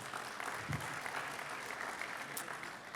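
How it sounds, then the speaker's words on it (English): An audience gives a steady round of applause for competitors at a defense intelligence panel discussion, dense and continuous clapping filling the room throughout. "another round of applause"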